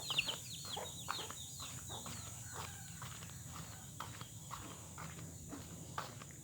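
Chickens cluck softly in the woods, with scattered faint clucks and rustling footsteps over a quiet outdoor background.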